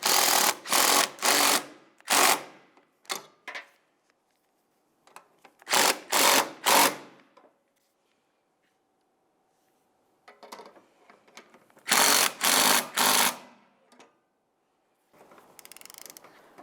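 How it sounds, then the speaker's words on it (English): Door hinge mounting bolts on a Dodge Dakota snugged with a ratchet: short bursts of quick clicking in several separate groups with silent gaps between them, close and fairly loud, no talk. "snug up each of your mounting bolts."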